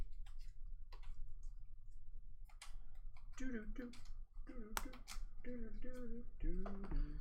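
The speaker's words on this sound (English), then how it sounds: "we gotta shuffle all the decks, it looks like" Board game cards being shuffled at a table, with quick bursts of crisp clicking and riffling that come and go while several people talk over them.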